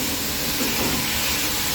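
Goat meat frying with garlic-ginger paste in a pan gives a steady, dense sizzling hiss that stays even and close throughout, with no voices.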